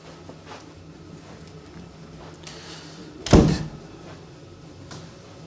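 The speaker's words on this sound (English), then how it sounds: "soft closed doors." A soft-close kitchen cupboard door in a semi-detached house shuts once with a single muffled thunk near the middle, over a quiet room background.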